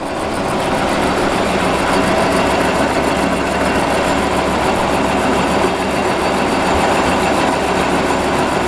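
A milling machine cutting the face of a blacksmith's anvil on its return pass, giving a loud steady grinding whir with a constant mechanical drone and no pauses.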